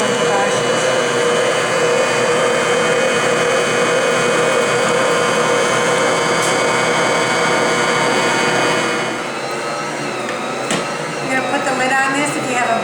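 A Bosch stand mixer kneads bread dough on speed one with a loud, steady motor whir and hum, which dips slightly in level and shifts in tone about two-thirds of the way through.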